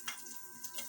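Chopped garlic hits hot oil in a pan, giving a brief, close sizzle with a few sharp crackling pops.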